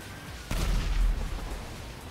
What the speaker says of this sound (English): Oh, more explosions.